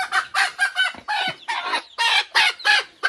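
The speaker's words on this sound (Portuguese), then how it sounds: "Vou trazer a galinha daqui, não quis parar de piar" A hen clucking loudly and close by in a series of rapid, repeated bursts with short gaps between them, heard alone on a small farm smallholding.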